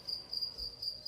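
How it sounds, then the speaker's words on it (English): Steady high-pitched cricket chirping in rapid pulsing trills, fairly faint and continuous, with no voices. "when I hear the sound of crickets"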